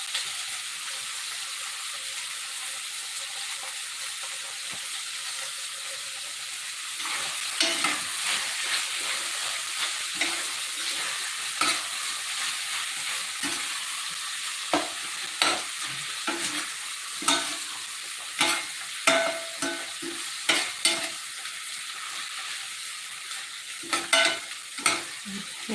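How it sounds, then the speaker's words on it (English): Spaghetti water at a rolling boil being stirred in a pot, a steady bubbling wash with repeated scraping and clinking strokes growing more frequent over time, with no talking. "Keep it at that rolling boil like this and you're good to go."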